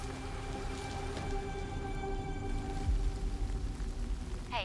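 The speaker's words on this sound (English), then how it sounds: "Loving the rain." Rain falling in a Resident Evil Requiem game trailer, a steady soft patter with low rumbling beneath and sustained tonal music over it, faint overall.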